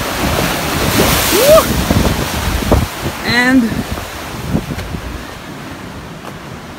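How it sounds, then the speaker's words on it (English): Rough sea surf breaking along the rocky Antibes coast in southern France, a steady wash of waves with heavy wind buffeting the microphone, while a voice whoops and speaks briefly over it. "It's pretty rough sea, so unless you're a really good swimmer and not afraid, you shouldn't go into the water today."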